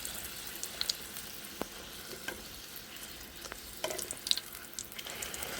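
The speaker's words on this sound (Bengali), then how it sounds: "তেলটা গরম হয়ে গেছে। এবার আমি লুচিগুলো ভেজে নিই একে একে।" Luchi puffing in hot oil, with a steady low sizzle and scattered small pops, fairly quiet and without talk.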